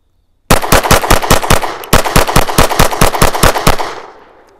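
Rapid strings of 9mm shots from an FN 509 CC Edge handgun on a shooting range, about two bursts of evenly spaced loud cracks with a brief pause between, then ringing decay; no talking.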